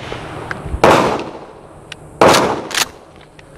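A Mossberg Shockwave shotgun fires Aguila minishell buckshot outdoors at about 7 yards, with two loud, sharp blasts roughly a second and a half apart, each followed by a short decaying echo and some faint clicks.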